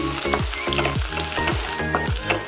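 Onions, whole garlic and chilies sizzle and crackle in hot oil, a loud steady fry broken by regular stirring scrapes about twice a second.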